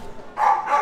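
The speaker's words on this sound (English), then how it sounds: "Dog in the airport." Inside an airport terminal, a dog gives a short bark or yip of about two quick bursts. The sound is close and moderately loud and lasts under a second.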